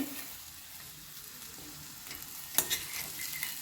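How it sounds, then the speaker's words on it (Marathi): Sprouted moong beans sauté in an onion-garlic masala for a breakfast usal, a soft continuous sizzle with a few sharper stirring clinks near the end. "मूग हे छान परतून घ्यायचे आहे दोन ते तीन मिनिट आपल्याला याला लागणार आहे"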